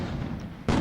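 A firecracker goes off with a sudden sharp, loud bang that cuts into a rumbling background and rings out briefly at the end, with no speech.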